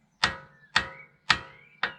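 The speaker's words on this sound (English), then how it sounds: "I better use hammer" Four sharp metallic hammer strikes land on a Volvo suspension top mount at an even, roughly half-second rhythm, each ringing briefly before fading. The strikes are close and clear, with no speech.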